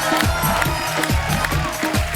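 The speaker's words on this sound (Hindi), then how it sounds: "जोरदार तालियां हो जाए हमारे मेहमानों के लिए" Studio audience at a comedy talk show applauds the guests, a steady dense wash of clapping and crowd noise with rhythmic thumping beneath, loud and continuous throughout.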